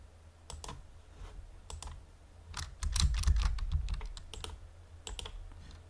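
Bursts of key clicks as a license key is typed on a computer keyboard during a Windows Server 2022 installation, with irregular clusters of taps and a denser run in the middle, close and alone.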